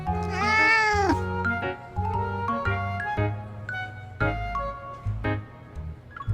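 A cat meows in the video game Love and Deepspace, one long drawn-out meow followed by shorter mews over a backing of game music, clear and close.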